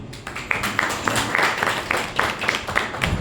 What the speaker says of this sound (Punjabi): ਇਹਨਾਂ ਦੀ ਮਾਤਾ ਦੀ ਵਾਸਤੇ ਤਾੜੀ ਮਾਰੋ